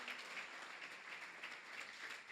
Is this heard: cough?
no